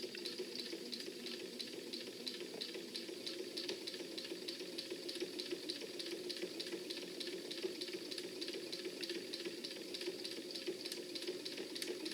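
A sewing machine stitches slowly over a zipper while an inset zipper pocket is being sewn, giving a steady, even run of rapid mechanical ticking that holds at a quiet level throughout with no talking.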